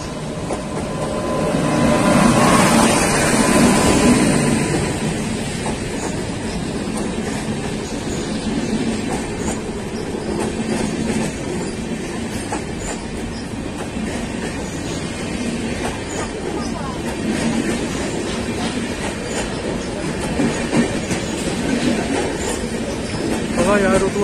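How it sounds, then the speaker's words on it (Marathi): A train runs along a railway line near a tunnel on the route by the Nathbaba caves at Khopoli, giving a steady, fairly loud rumble with wheel clatter that swells briefly early on and then continues throughout. "या रूटवरती येत असलेली ट्रेन तुम्ही आता बघताय."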